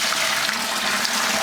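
Hot sweet water pours steadily into a brewing fermenter for an old Coopers Dark Ale kit, a close, continuous splashing rush with no talk.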